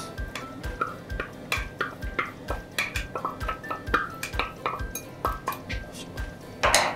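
Vegetables including ginger and shiitake mushrooms stir-fried over medium heat in salad oil in a pan, with repeated clinks and scrapes of a utensil against the pan in a steady rhythm, close up and fairly loud.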